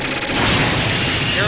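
Loud, dense cannon fire from the arcade game Metal Slug 2 forms a continuous booming barrage with a voice talking over it.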